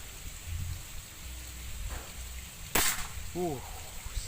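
A single sharp crack of a folding Predator Tactical 500cc air rifle shot rings out amid quiet outdoor background noise, followed by a faint metallic ping.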